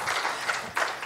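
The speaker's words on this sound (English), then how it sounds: "give them another round of applause" Brief applause from an audience at a trade business summit, a soft patter of claps with a couple of small swells, fairly quiet and short.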